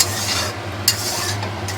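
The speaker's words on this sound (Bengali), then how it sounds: "এই ঘিটা তেলের মধ্যে ভালো করে মিশিয়ে নিলাম" Ghee stirred into hot oil in a pan for a prawn dish: a continuous close hiss of sizzling fat, broken by a single quick scrape of the spoon partway through.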